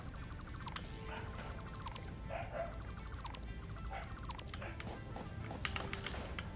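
A dog creature in the game Satisfactory yips and barks repeatedly in short bursts over a busy mechanical factory hum and beeping tones.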